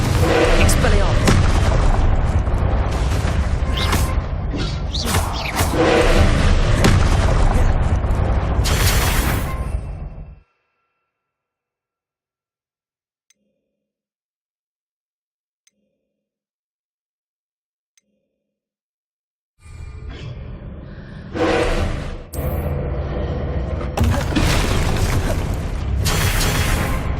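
Spell blasts in Hogwarts Legacy come in a dense run of loud booming explosions, then cut to a long near-silence before another barrage of heavy bursts and impacts resumes.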